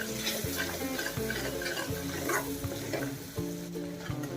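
Homemade masala and tomato are sautéed in a pan over low heat, a close, steady sizzle with repeated rhythmic scraping strokes of a spoon stirring the mixture, no voices.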